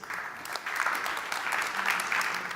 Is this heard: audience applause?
yes